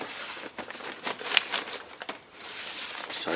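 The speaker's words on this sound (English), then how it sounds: "Sorry about the crinkling noise." A vinyl record's plastic sleeve crinkles while it is handled in a thrift store. Faint crackly rustling rises and falls irregularly for a few seconds, with no talk.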